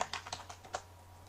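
Quick, quiet keystrokes on a computer keyboard while setting up OneSignal push notifications for an app, about eight light taps in an irregular burst over a faint low hum.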